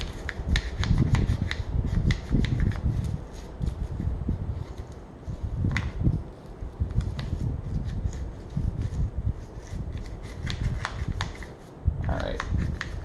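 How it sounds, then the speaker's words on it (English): Steady toothbrush bristle scrubbing against a metal part of a Homelite AP-125, a continuous rough brushing with short pauses, close and fairly quiet. "So it's gonna be more so toothbrush cleaning."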